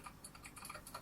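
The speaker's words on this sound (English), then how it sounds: "I can do the typing actually." Quiet, rapid clicking of keys typed on a computer keyboard, an irregular patter of light taps close by with no talking.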